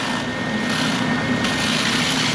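Bauer (Harbor Freight) oscillating sander running on reclaimed pallet wood, a loud, steady, high-pitched whine with a constant buzzing hum throughout.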